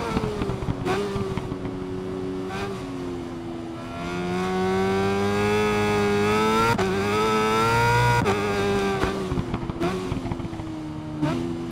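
A BMW superbike engine in the Ride 5 racing game screams around a circuit, its steady high-revving whine rising and falling through gear shifts, loud and continuous with no talk.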